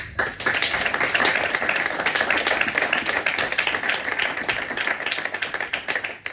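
A church congregation at a Sunday service claps together in sustained, dense applause, with steady rapid hand claps filling the room for several seconds and no talk over it.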